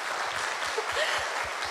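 An audience claps together at a business success-story talk, producing a steady patter of applause that lasts throughout, moderately loud and without speech.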